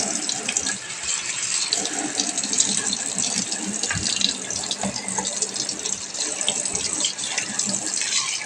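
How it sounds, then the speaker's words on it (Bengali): Tap water runs steadily into a kitchen sink as onion, tomato and other cooking ingredients are washed, with a continuous close splashing and faint clinks of handling. "একটু জল দিয়ে ধুয়ে নেব।"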